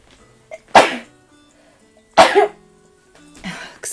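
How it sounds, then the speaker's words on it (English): A person lets out three sudden, forceful sneezes spaced a second or so apart, close to the listener, the last one a bit weaker and breathier, with quiet room tone in between. "I'm gonna sneeze again."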